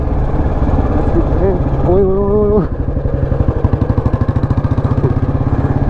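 A restored 2004 Royal Enfield Bullet Standard motorcycle runs nearby with its loud, steady single-cylinder thump, someone speaking briefly over the engine before the even beat carries on alone.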